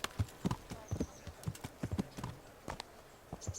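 Horse hooves clip-clop in a steady trotting rhythm in Kingdom Come: Deliverance, fairly close and moderately loud, with a faint soft snort near the end.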